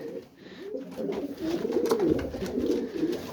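Pigeons coo in soft, rolling, throaty murmurs that swell and overlap, close by and continuous with faint background rustle.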